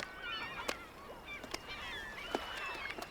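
Gulls call during the spring thaw, a faint chorus of overlapping cries and squawks with occasional sharper calls standing out.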